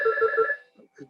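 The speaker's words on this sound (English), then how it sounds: "sorry about the phone" A telephone rings indoors during a Talmud study lesson, giving a short burst of bright, trilling electronic rings that stop after about half a second, followed by a voice resuming speech.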